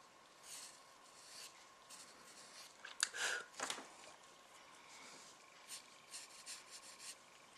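Pencil scratching across paper while joined-up handwriting is copied into a Gravity Falls-style journal page, a quiet steady rasp with a denser burst of strokes partway through, no voices.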